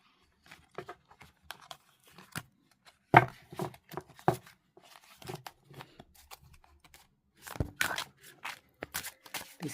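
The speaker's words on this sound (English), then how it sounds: "So let's give these cards a shuffle." Pixies Tarot de Marseille cards being shuffled by hand in an overhand style, giving close, quiet, irregular riffles and snaps with a few louder slaps, solo without talk.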